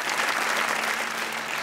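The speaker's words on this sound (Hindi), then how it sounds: "तालियां होनी चाहिए सर के लिए" Studio audience at a talk show breaks into steady, dense applause, a close, even wash of clapping filling the whole moment with no voices over it.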